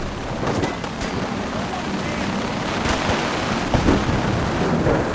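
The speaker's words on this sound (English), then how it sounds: "Storm is still going." Thunderstorm in a video game, raging over the ruins of CIT where synths roam: a steady, dense wash of rain and wind with low rumbling and a few sharper bursts, continuous throughout and fairly loud.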